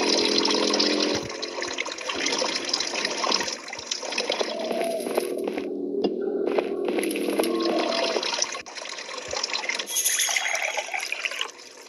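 Ice-cold mountain water runs steadily through a dungeon video game, a continuous trickling, splashing flow at moderate level with brief dips, and no voices over it.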